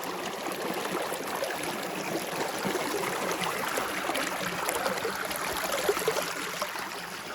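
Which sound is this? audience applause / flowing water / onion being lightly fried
flowing water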